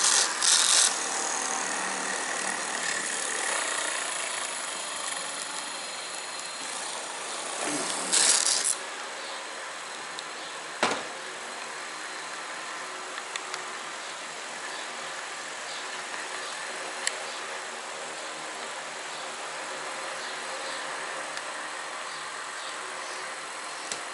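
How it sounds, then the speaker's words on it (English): A 36-volt electric kayak trolling motor, fitted with a magnet switch, runs underpowered on 12 volts, giving a steady whirring drone that holds at an even level throughout, broken by a few brief clunks and knocks. "So this is a 36 volt motor, and we got it on 12 volts naturally."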